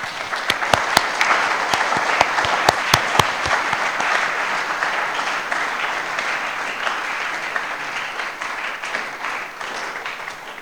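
A celebration audience gives a long round of applause in thanks, a few sharp claps ringing out at the start before dense, sustained clapping carries on steadily for about ten seconds.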